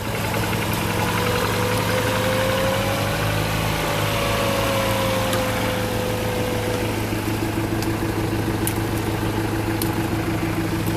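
A 2003 Ford Fiesta engine runs steadily at idle, a loud, continuous close-up hum with a faint rising and falling tone, heard alone without talk.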